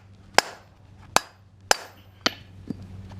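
A hammer strikes a loose wheel bearing hub on a 2007 Toyota Camry hybrid: five sharp metallic whacks about half a second apart, close and ringing, with the last one softer.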